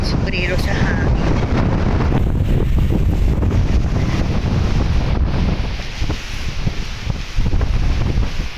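Strong gusty wind buffets the microphone in a loud, continuous roar during flooding, with rushing, surging noise that swells and dips, and occasional voices faintly present underneath.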